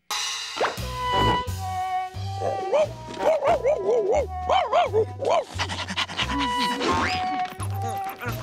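A man imitates a dog under hypnosis in a cartoon, panting heavily and letting out yelps and whimpering barks in rapid bursts, loud and close.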